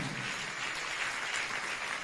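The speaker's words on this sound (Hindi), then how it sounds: "जोरदार तालियों के साथ अनुमोदना करें।" An audience at a religious gathering in India claps hard and steadily, a dense, even burst of applause that is close and fills the whole moment.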